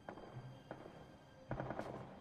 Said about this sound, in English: We heard them gunshots